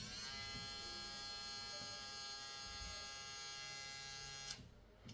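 Steady JRL Diamante Lamborghini-edition electric hair clipper drone at second speed, a high, even buzz, running close and unbroken, then ending abruptly near the close.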